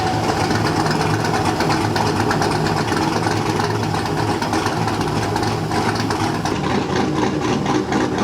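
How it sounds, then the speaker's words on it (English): A Chevrolet Corvette C7 Z06 with an upgraded cam idles low at around 680 RPM on a dyno, its engine holding a steady, loping rumble with a throbbing rhythm, close and continuous throughout. "it was idling at like setting idle at like 680 RPM"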